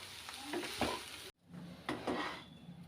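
Stirring coriander and spices into aloo gobi sabzi in a pan, a close spoon scraping and mixing through soft potato and cauliflower over a light sizzle, in two bursts split by a brief silent cut.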